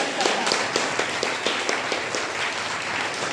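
Audience gives a welcoming round of applause at a training session, steady moderate clapping from a room of people, continuous with a few louder individual claps.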